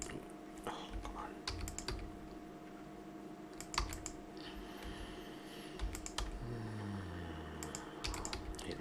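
Rapid typing on a computer keyboard during 3D modeling work, steady bursts of close, crisp key clicks with brief pauses, no voice.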